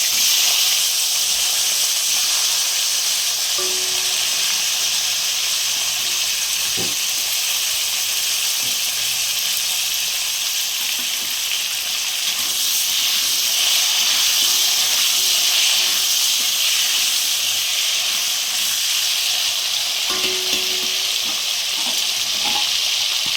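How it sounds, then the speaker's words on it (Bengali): Potatoes fry in oil in a pan for a village-style Bengali tilapia and potato curry, giving a loud, continuous hissing sizzle that holds steady throughout, with a few faint clinks and no voices. "আলুগুলো দিয়ে দেবো, আলুগুলো একটু ভালো করে ভেজে নেবো।"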